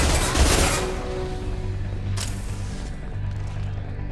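Allied gunfire in a Mass Effect 2 battle, a burst of rapid shots up front, then a sharp later crack over a low rumbling drone.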